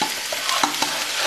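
Tofu tipped into a hot wok and stirred, giving a steady close hiss of frying oil broken by several short scraping stirs of the spatula, with no voices.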